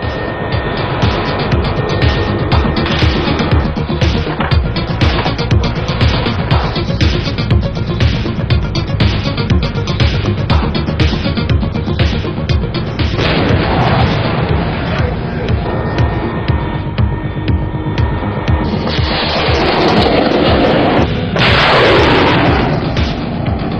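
Loud military anti-aircraft missile firing, Roland system, during a live-fire exercise on Crete: a sustained, powerful roar with rumbling bursts fills the whole stretch, rising again near the end.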